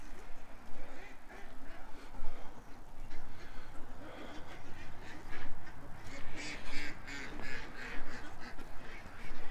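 A flock of ducks quacks continuously and loudly at close range as they are let out, overlapping calls forming a dense, busy chatter that grows more intense in the second half.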